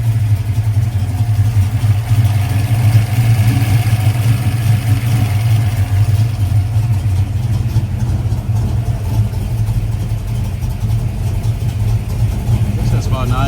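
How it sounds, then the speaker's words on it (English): A car engine idles steadily at around 800 to 900 RPM, a loud, even low hum with a slight throb and no revving, while a person talks over it. "This is about 900, 800, 900 RPM. That's passable idle."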